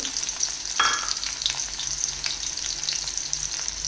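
Garlic frying in hot oil for an Odia-style veg fish curry, a bright continuous sizzle with one louder spattering burst early on, steady and close with no talk.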